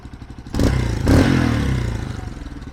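A boxer motorcycle engine idles with a rhythmic chug, is revved sharply twice to a loud roar, then falls back to a steady lumpy idle, close by and alone.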